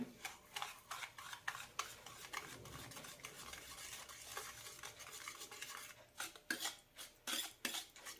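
Brown sugar and powdered sugar are mixed for blondie batter, producing quiet, repeated scraping and clinking strokes of a utensil against a bowl, with a few sharper taps toward the end.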